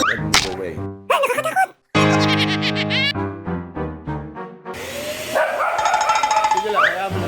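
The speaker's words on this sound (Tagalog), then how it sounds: "He would bark and charge or he would bark and move away." A dog barks at a household vacuum cleaner: a run of sharp, loud barks and yips close by, mixed with people talking, then the vacuum's steady droning hum comes on under further barking.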